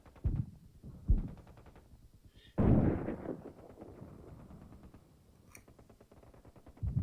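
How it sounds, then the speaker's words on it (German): A tank cannon fires in the video game Codename: Panzer Phase One. A heavy, booming shot lands partway through, following two smaller thuds, over a low, humming game background. "Und Schuss!"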